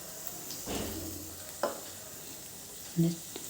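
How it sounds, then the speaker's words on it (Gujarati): Chopped tomatoes fry with sautéed onions in a pan, giving a quiet steady sizzle. A utensil stirs and knocks against the pan in a few distinct close strokes, with no talking. "ડુંગળી આપણી સંતળાઈ ગઈ છે, એની અંદર આપણે હવે આ સમારેલા ટામેટાં એડ કરી દઈશું"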